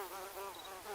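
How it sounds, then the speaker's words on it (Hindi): Mosquitoes whine through a room at night, a thin, wavering buzz that keeps going close by and quite faint, with no voices. "ये मच्छर यहाँ से आ रहे हैं"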